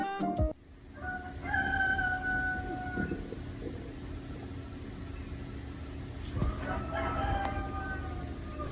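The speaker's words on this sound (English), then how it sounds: "The chickens have been crowing for the past 1 hour." Roosters crowing in the pre-dawn hours at around 3 a.m. in Taiwan, two drawn-out cock-a-doodle-doo calls at moderate distance, one early and one later, over a low steady background hum.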